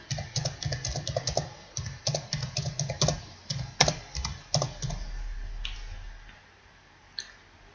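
Answers are typed on a computer keyboard: close, quick clusters of light plastic keystrokes, then a few isolated clicks as the typing trails off over a faint low hum.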